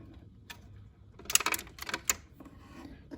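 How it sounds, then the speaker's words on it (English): Vintage Zenith Pro automatic stereo turntable changer mechanism engaging, a few quiet mechanical clicks and clacks in a short cluster, faint and close against a quiet background. "give it a further push, and it's kind of like a momentary click"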